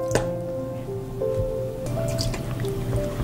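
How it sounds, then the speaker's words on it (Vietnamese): Sliced luffa gourd being washed in a basin of lightly salted water, giving close wet drips, squishes and small sloshes with steady kitchen background hum and no talking. "mình cho mướp qua rửa trong thau nước có pha một chút muối"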